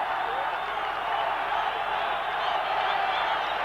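A large stadium crowd roars and cheers during a 1990 World Cup football match between Colombia and the Soviet Union, a dense, steady wash of distant voices that swells slightly without letting up.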